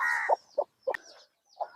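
Incubator-hatched native chicks give a handful of short, bright peeps and chirps in quick, uneven bursts with brief silences between, close by and clear.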